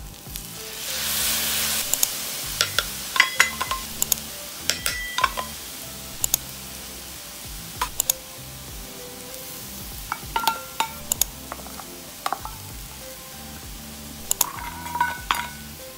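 Pineapple fried rice with egg, onion and seasoning is stirred in a pan over a soft, steady sizzle, with repeated sharp clinks of a utensil against the pan in irregular bursts.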